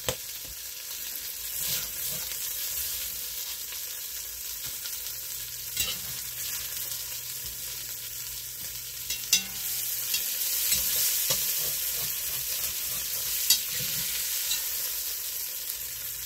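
Beef stew meat browning in a pot, a long steady sizzle with occasional spoon scrapes and taps against the bottom, moderately close and even throughout.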